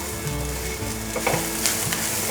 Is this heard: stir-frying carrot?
yes